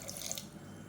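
Water for horse gram soup splashes and pours steadily into a pot in a brief, continuous trickling stream, close and fairly soft.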